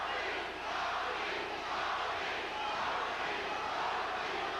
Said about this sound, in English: The crowd chanting for Tommy Hearns.